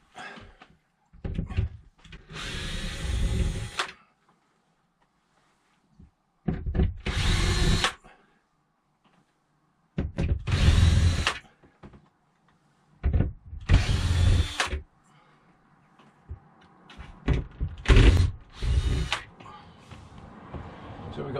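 Power drill backing screws out of a motorhome rooflight, running in five or six loud bursts of a few seconds each, separated by quieter handling noises and short pauses, close to the listener.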